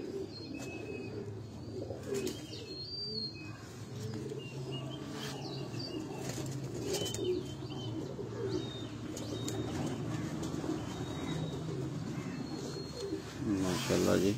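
Soft, low pigeon coos repeat through steady background murmur, with occasional chirps and some quiet talk nearby.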